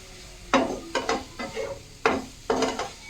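Spices such as Kashmiri red chili, coriander-cumin powder and turmeric being stirred into a moong dal mixture in a pan, five distinct scraping strokes in an uneven rhythm with a faint sizzle underneath, close and alone with no talking.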